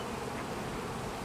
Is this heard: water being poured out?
no